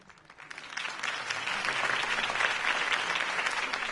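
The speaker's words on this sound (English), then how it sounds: "could have heard that applause" A crowd in the video game Batman: The Telltale Series applauds steadily after a campaign speech, the clapping building over the first second and then holding as a dense, sustained wash of claps.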